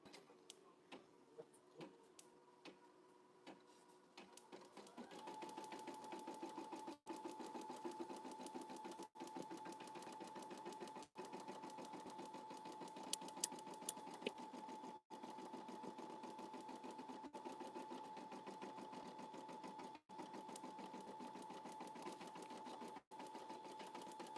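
An embroidery machine stitches a towel. A few sparse clicks come first, then a fast, steady mechanical chatter that is rhythmic and close, broken by brief pauses every few seconds, with no talking.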